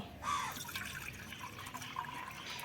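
Water is poured into a bowl of dry rice flour, making a soft, continuous splashing trickle that stays fairly faint and steady for a few seconds.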